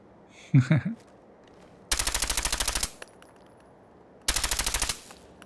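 Two sustained bursts of rapid automatic fire from the suppressed Spray n' Pray weapon in Fallout 4, each lasting about a second with evenly spaced shots. The bursts are separated by a pause, and a short vocal sound comes before the first.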